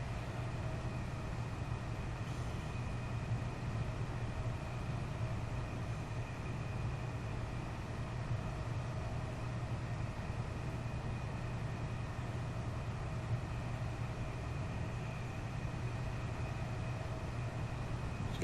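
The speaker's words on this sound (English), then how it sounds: "I just like the old train sound going past." An old train rumbles past in Train Sim World, a steady low drone and hum that holds evenly throughout, moderately quiet, with no voices.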